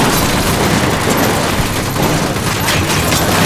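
Dense, continuous gunfire in the video game Ghost Recon Wildlands rattles without pause, loud and close, with bursts blending into a steady roar.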